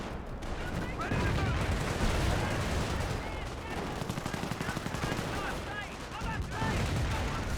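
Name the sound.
Cromwell tank gunfire in Company of Heroes video game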